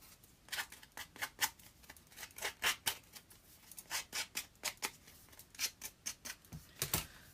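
Cut-out scrapbook paper having its edges roughed up, a run of short, crisp scraping strokes repeating in a steady rhythm, close and fairly quiet with no talking.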